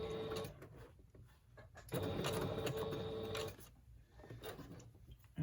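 A sewing machine stitching through craft paper cut from Tim Holtz Wild Flower 6x6 squares, running in close, whirring bursts with brief pauses between them.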